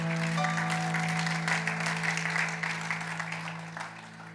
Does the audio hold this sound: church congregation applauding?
yes